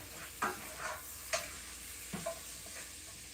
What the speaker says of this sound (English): our beans need a stir around there